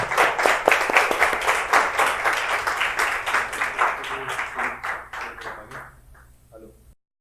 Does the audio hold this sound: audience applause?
yes